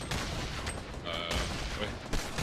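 Rapid gunfire from a battle royale video game, dense bursts of shots across the whole stretch, loud and continuous with brief tonal game effects layered in, no one speaking.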